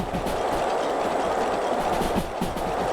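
S282 train in the Derail Valley game running steadily, a continuous rolling rumble with rhythmic clickety-clack wheel beats on the rails, close and loud throughout with no talking.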